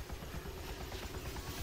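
A helicopter in the military video game ArmA 2 runs steadily with a loud, close, continuous rotor thump and engine drone, with no talk over it.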